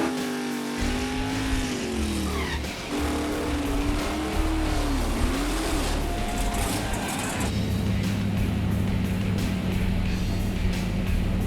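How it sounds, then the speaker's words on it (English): A drag race car at a motorsports park does a burnout before a hot lap final, its engine roaring loud and close with revs that climb and dip, then settling into a heavy sustained drone. "Let's see the final burnout of the night."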